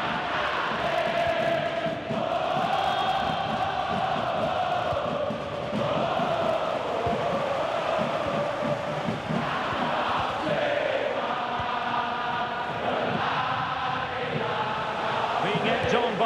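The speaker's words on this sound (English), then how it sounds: "Being egged on by the crowd" Stadium crowd noise from a FIFA 23 friendly between Indonesia and Thailand, a steady roar of cheering and chanting that swells at moments and runs the whole time, with a commentator's voice over it.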